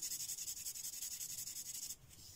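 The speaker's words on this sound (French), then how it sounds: "On commence à colorier une zone." Alcohol marker colouring an area of paper: a quick, even run of soft rhythmic scratching strokes close to the microphone, fading to a quiet hiss as the strokes stop.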